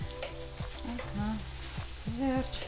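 Tomato paste fries in oil in a pan while being stirred, a close continuous sizzle with scraping strokes of a utensil, briefly under a single spoken word.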